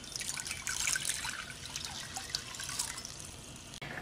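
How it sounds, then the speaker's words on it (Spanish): Water comes to a boil in a pot for mint tea, a continuous close bubbling and gurgling with busy, irregular fizzing, moderately quiet and with no one talking. "Aquí mi agua ya está hirviendo."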